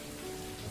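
Steady rain falls as a faint, even background patter in a horror radio story, a soft continuous hiss with no talk over it.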